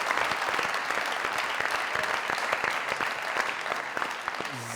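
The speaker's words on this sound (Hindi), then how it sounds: "जोरदार ताली" Loud, sustained applause from a studio audience at a Pakistani comedy talk show, a dense continuous clatter of clapping hands with sharp individual claps standing out, no voices over it.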